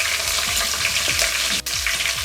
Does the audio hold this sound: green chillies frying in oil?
yes